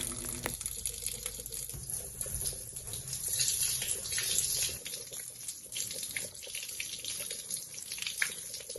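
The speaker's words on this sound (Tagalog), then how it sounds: "At nabibigyan na tayo nito ng consistent na agos ng tubig." Water from a tap flows in a steady, consistent stream after new pump piping is installed, a continuous splashing gush heard close by with no talk.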